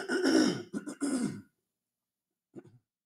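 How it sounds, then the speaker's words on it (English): A man clears his throat loudly for about a second and a half in several rough bursts, then a short, fainter throat sound follows after a pause in otherwise quiet surroundings. "Let me just clear my throat here."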